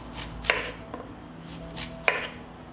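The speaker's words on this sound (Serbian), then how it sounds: "I tako ću iseći tikvice." Knife cuts through zucchini into rings on a board, two sharp close chops with softer taps and slicing sounds between them, no talk.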